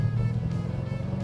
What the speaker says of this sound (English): Just gun the throttle and let it sing.